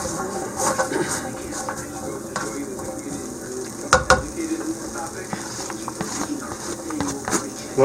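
Onions sizzle in a pan over a campsite fire, a continuous close crackling hiss with a few scraping stirs, a couple of louder knocks, and faint outdoor ambience behind it.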